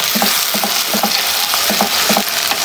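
Onions fry with cinnamon and cardamom in a pot for chicken biryani, a steady loud sizzle broken by repeated scraping stir strokes, with no voices.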